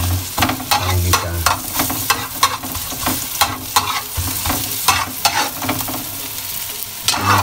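Garlic sautés in leftover tofu frying oil with a loud, bright sizzle, while repeated stirring strokes scrape and clatter in a steady rhythm close by. No voices.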